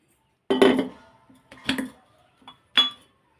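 Metal clanks as a wok is set on a home stove for an egg and potato curry, with four separate knocks and scrapes, close and fairly loud, against a quiet background.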